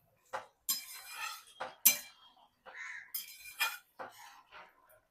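A metal pot lid lifts and a spoon stirs taro curry in a pan: sharp clinks and scrapes come in short, irregular bursts, close and clear in a quiet kitchen.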